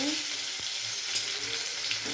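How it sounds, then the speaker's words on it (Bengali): A dry red chili, whole cumin seeds and chopped garlic sizzle in hot oil as the tempering for chana masala. A steady, near hiss runs with a couple of faint pops and soft stirring clicks, and no one speaks. "এবার ফোড়নে একটা শুকনো লঙ্কা ফাটিয়ে দিয়ে দেবো, আর একটু গোটা জিরে দিয়ে দেবো, তারপরে রসুন কুচি দিয়ে দেবো।"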